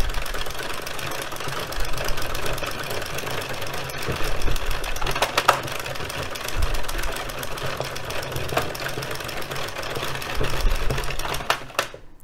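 An addi express kingsize knitting machine cranked through rounds of a striped hat, giving a rapid, steady mechanical clatter and rattle that runs on for several seconds before slowing at the end, close and loud with no talk.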